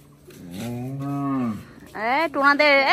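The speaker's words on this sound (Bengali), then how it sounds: "টোনা তোর গরু চিল্লাচ্ছে" A cow lets out one long, close, loud moo, followed by two more rising bellows in quick succession.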